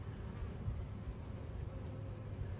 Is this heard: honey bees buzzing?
yes